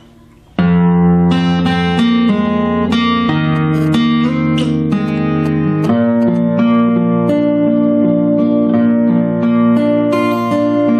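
Fingerstyle acoustic guitar plays the closing bars of a song's verse from Frozen, with picked melody notes ringing over a sustained bass, close and clear with no voices.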